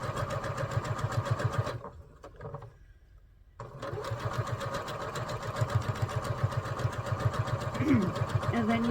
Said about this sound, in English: you sew on one side of that line